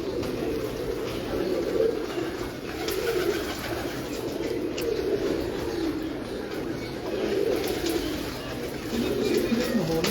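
Pigeons cooing in soft, repeated rounds of low throaty calls, steady and moderately close, with faint chirps and a background murmur.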